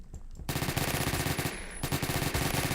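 Rapid automatic gunfire from a gun in the Roblox game Phantom Forces, loud dense bursts of shots in quick rhythm, a brief pause midway, then firing resumes, no talking.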